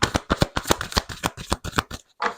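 Tarot cards being shuffled to draw one card, a quick run of crisp riffling flutters in steady rhythm, close and alone, ending with a short pause and a final flick.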